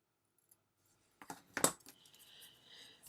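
Scissors cut paper for a handmade mini album: a soft tap, then close, crisp snipping and rustling of the paper, followed by a faint lingering hiss.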